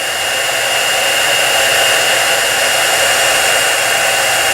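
A heat gun blows continuously with a steady, loud, close whooshing roar while melting heat embossing powder on a stenciled card, with no pauses or talking.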